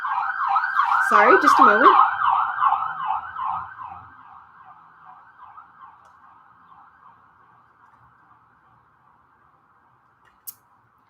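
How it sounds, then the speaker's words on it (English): A wailing emergency siren sweeps up and down loudly, then fades steadily into the distance; a brief voice speaks near the start. "Had to wait for the siren to pass."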